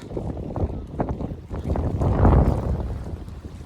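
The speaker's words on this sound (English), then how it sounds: "I'm getting back into the wind" Wind gusting outdoors in a steep wooded clough, a steady broadband roar that swells and buffets the microphone, loudest around the middle, with no voices.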